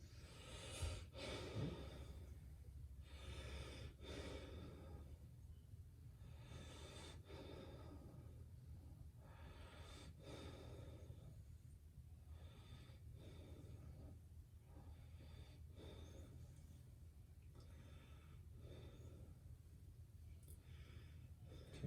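During a head-to-toe physical exam, a patient breathes deeply in and out. Soft, slow breaths repeat every couple of seconds over a quiet, low room hum with no speech.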